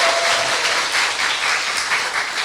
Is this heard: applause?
yes